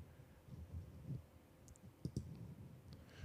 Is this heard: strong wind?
no